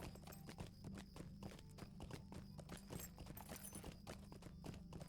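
A horse's hooves clip-clop at an even walking pace in the online fantasy game The Lord of the Rings Online, a quick, regular beat that carries through the whole stretch over a low ambient bed.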